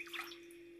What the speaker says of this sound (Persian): آب را در ظرف میریزیم